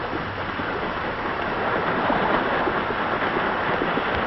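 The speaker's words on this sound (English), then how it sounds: "Our boat's big wheels churn the water as we back away from the pier" A boat's big paddle wheels churn river water as the vessel backs slowly away from a pier, a dense, continuous rushing wash that holds steady throughout.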